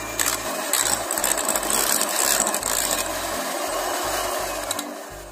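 An electric beater whirs steadily through cream cheese with powdered sugar and cardamom, a close, continuous buzzing motor with a slightly uneven, pulsing low hum and no talking.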